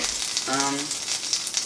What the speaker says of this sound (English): Oh my god, everything's sizzling.